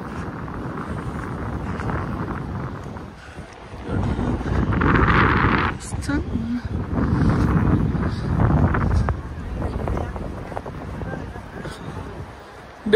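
Strong gusts buffet the microphone on Nepal's highest bridge, a loud roaring rumble that swells and eases over several seconds, with people talking beneath the wind.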